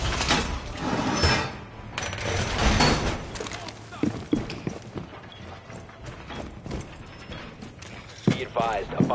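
A weapon reload in Rainbow Six Siege during a ranked bomb-defense round, with mechanical clicks and clacks of magazine and bolt among busy in-game noise, footsteps and voice callouts.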